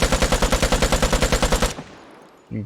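A rapid burst of about fifteen evenly spaced gunshots from a weapon in the game Vigor, loud and close, stopping abruptly, followed by a short silence and a faint later sound.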